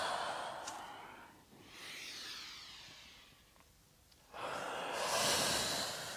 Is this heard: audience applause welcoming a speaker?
no